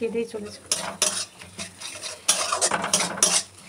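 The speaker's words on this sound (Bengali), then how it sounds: "পেঁয়াজটা হালকা নাড়াচাড়া করে ডিমটা দিয়ে দিয়েছি এর মধ্যে" Onion and egg frying in a pan while being stirred, with irregular clanks and scrapes of a utensil against the pan over a soft sizzle, fairly close and loud in bursts.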